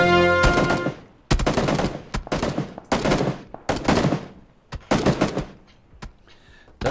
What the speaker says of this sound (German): Und ich höre Schüsse bei mir einschlagen.